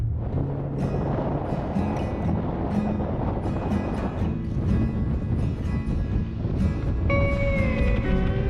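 Strong wind roars steadily and loudly at Torres del Paine in Patagonia, buffeting with a constant low rumble throughout.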